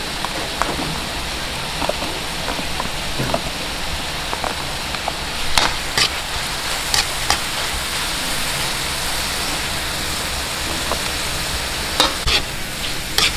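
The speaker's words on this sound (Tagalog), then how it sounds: "gisa-gisahin lang po natin hanggang sa medyo mag-orange po yung ating hipon" Shrimp sautéing in a hot pan for pancit canton, a continuous loud sizzle with occasional sharp clicks of a utensil stirring against the pan, no talking.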